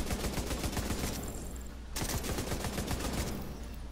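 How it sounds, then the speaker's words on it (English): Rapid gunfire in The Division 2 crackles continuously in fast bursts, dense and loud, with a brief break in the middle. "Is that gunfire?"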